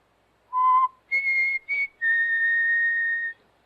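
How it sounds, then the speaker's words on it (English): A person whistles a short melodic phrase of four clear tones, the last one held steady for over a second, close and alone with no other sound. "I just whistled."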